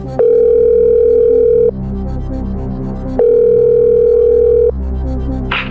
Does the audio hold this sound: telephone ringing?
yes